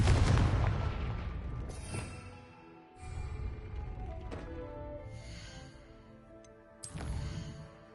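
Bombarda and Confringo spells blasting in a Hogwarts video game, a heavy booming explosion at the start, then further rumbling blasts and a sharp crack near seven seconds, loud and close.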